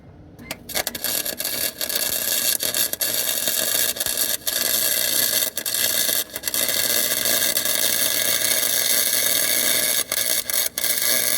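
MIG welding of thin sheet metal on a car: a steady, loud crackling hiss that runs almost continuously, with brief breaks and sharp pops along the way.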